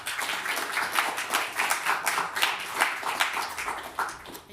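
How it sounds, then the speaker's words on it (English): Audience applause at a conference session on circular economy measurement: a dense, steady burst of many hands clapping together, fairly close and sustained for several seconds with no voices over it. "give them a round of applause."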